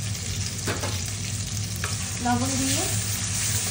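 Chopped onions sizzle and get stirred in a hot pan for minced meat with chana dal. Steady loud frying runs throughout while a voice speaks briefly.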